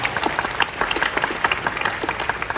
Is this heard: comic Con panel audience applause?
yes